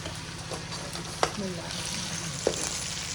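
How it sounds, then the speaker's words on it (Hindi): Ginger garlic paste and chicken frying in a pan, a steady sizzle throughout with two sharp clinks of a utensil against the pan. "अदरक लहसुन का पेस्ट थोड़ा सा भी मैं डालूंगी, थोड़ा सा फ्राई करूंगी इसको"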